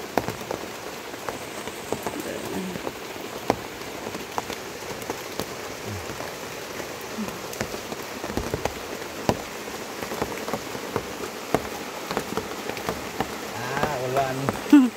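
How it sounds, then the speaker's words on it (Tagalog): Steady rain patters on surfaces outdoors in a rural mountain area, a dense continuous hiss with scattered drops throughout, loud and close, with no talk over it. "Ulan."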